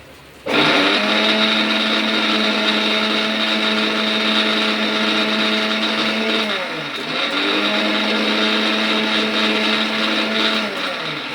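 A mixer grinder whirs loudly, grinding mint chutney with ginger stems in two long steady runs separated by a brief dip in speed, with no voices.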